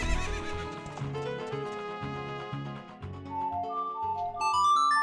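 A horse whinnies and its hooves clip-clop at a fortress in The Legend of Zelda: Ocarina of Time, a loud neigh with steady hoofbeats over the game's music, with no talking.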